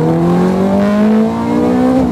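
A Ferrari F430 Scuderia engine revs hard through a corner, a loud, close, sustained tone that climbs steadily in pitch with a strong harmonic growl.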